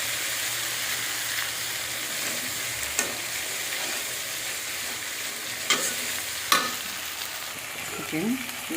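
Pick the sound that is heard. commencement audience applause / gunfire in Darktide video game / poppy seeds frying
poppy seeds frying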